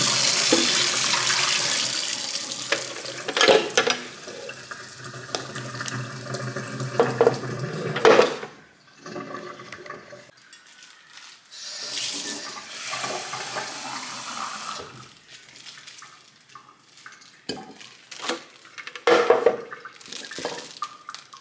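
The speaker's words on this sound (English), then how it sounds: "I will be back once I've rinsed the tank out." Tap water runs into a sink while a tank is rinsed out, a steady broadband splash with clatters of handling, easing off midway and returning in shorter gushes toward the end, close by and alone.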